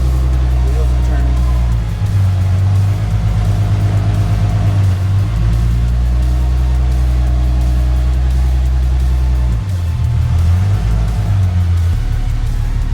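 A 2013 Infiniti G37 sedan with a swapped VR30 transmission idles in gear with its wheels turning, giving a loud, steady low drone that dips briefly a couple of times, with someone talking over it.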